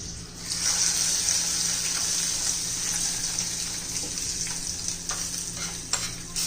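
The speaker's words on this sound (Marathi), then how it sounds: "आता तडका देऊया चटणीला" A hot tempering of cumin, mustard seed and garlic is poured into a methi-tomato chutney, giving a loud, sudden sizzling hiss that holds steady and slowly eases over several seconds, with faint clinks near the end.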